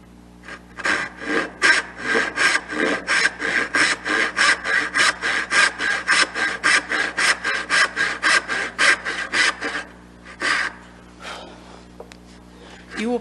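A hand saw cuts dovetail tails in wood in quick, rhythmic back-and-forth strokes, pausing briefly near the end before a few more strokes.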